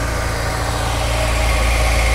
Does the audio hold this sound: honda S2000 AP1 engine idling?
yes